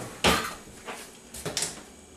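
A metal spatula clinks against pans and utensils at a stove while oil heats for onions: two or three sharp, close clatters spaced apart, with soft handling noise between them.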